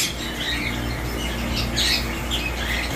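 Caged birds at the Tongi bird market, among them pet birds such as cockatiels, squawk loudly and continuously up close, with shrill overlapping calls rising and falling and no voices heard.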